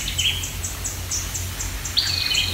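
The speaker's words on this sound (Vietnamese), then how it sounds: "Chim chích đầu đỏ quá trời luôn ha." Small red-headed warblers chirp in a garden of fruit trees, giving a quick series of high, thin repeated notes with a brighter call near the end, moderately close over a low background hum.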